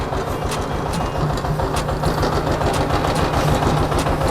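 Engine of a TMR feed mixer, 1-cubic-meter model, running while mixing straw, a steady loud low drone at constant speed with rhythmic clicking and rattling from the machinery, no talk.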